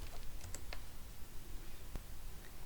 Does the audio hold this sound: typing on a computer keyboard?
yes